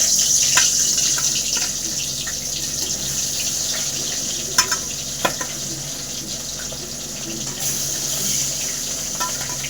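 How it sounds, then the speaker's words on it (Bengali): Pieces of rohu fish slid into hot oil produce a continuous hissing sizzle that stays fairly steady for several seconds, with a couple of faint clicks from the pan. "তেল গরম হয়ে গেছে, মাছগুলো দিয়ে দেবো।"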